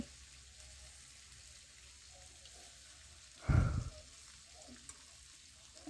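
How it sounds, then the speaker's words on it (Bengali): Fish frying in a pan gives a steady low sizzle, then one loud, brief burst of spitting and hissing midway as the fish is flipped onto its other side. The sizzle then settles back to a quieter level. "আর এই তো মাছ এক পাশে হয়ে গেছে তাই আর এক পাশে উল্টিয়ে দিতেছি"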